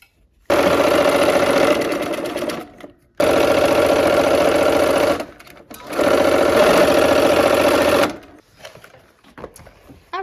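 Close, loud sewing machine stitching quilt block seams in three long continuous runs broken by short stops, with a quieter stretch at the end.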